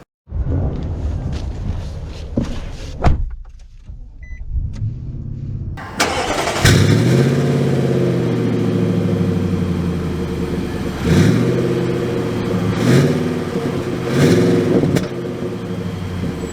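A 2023 Nissan Titan SV pickup truck fires up after a few seconds of quiet clicks and handling noise, settling into a steady idle, then revs and pulls away with several rising engine surges, close and loud.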